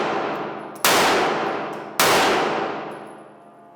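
Pistol shots striking steel targets on a shooting range ring out as two sharp, loud bangs with a metallic clang, each followed by a long decaying ring, about a second apart.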